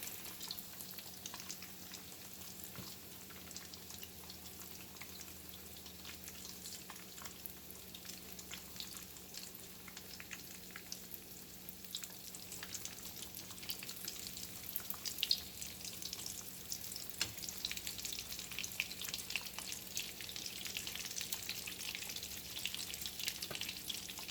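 Potato croquettes fry in oil with a soft, steady crackle and fine hiss. The sizzle is faint and continuous, with scattered small pops, and no one speaks.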